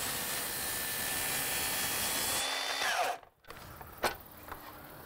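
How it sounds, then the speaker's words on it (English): A 7 1/4 inch circular saw whines loudly at full speed while cutting a 1x4 board. The pitch drops as the blade finishes and spins down into a brief quiet, followed by a faint knock. "that's a 1x4 on a 7 1/4 saw"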